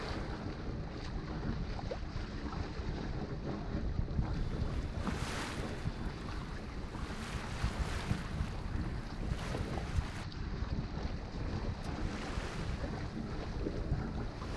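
A sailboat motors through open sea off Sulawesi on a stormy day, with steady wind buffeting the microphone and waves washing against the hull in a continuous, loud rush.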